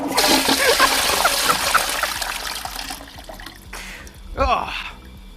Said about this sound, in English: I want to give the toilet a flush